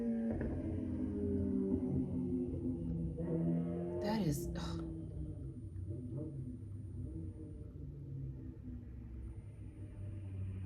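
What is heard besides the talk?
sport motorcycle (crotch rocket) driving up and down the street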